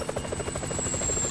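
A helicopter in GTA 5 thumps steadily with fast, rhythmic rotor chop and a constant high whine, close and loud throughout.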